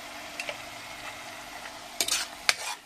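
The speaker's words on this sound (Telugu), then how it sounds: "ఉల్లిగడ్డ వాసన పోయే వరకు మనం దీన్ని వేయించుకుందాం" Onions frying in a pan for a fish roe fry, with a faint steady sizzle and a few sharp utensil clinks and scrapes of stirring near the end.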